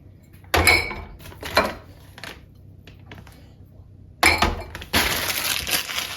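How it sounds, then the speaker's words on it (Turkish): Glass dishes and cutlery clink and knock as a dishwasher is unloaded at home, a few sharp clatters separated by quiet gaps, then a longer burst of rattling near the end, close and moderately loud with no talk. "şimdi bulaşık makinesini boşaltabiliriz hızlıca"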